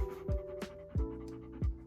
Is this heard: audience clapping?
no